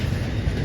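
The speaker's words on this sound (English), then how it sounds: "That was a really short intermodal train." A short intermodal freight train rolls past a grade crossing, a steady loud rumble of wheels and cars, close and continuous throughout the brief moment.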